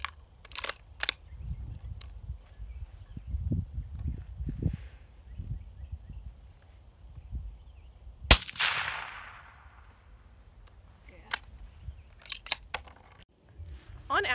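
One sharp, muffled gunshot from a suppressed rifle cracks midway and rings out briefly. Scattered clicks and low rustling handling noises surround it.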